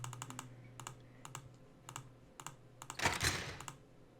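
Code punched into a keypad in the Nancy Drew PC game Secret of the Scarlet Hand: a run of short, evenly spaced clicky key presses, followed by a brief louder burst near the end, with no talking.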